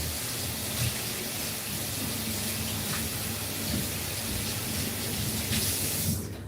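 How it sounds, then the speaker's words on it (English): Hands washed under a running tap, the water pouring in a steady, close rush with small splashing variations, then cutting off abruptly at the end. "Let me wash my hands."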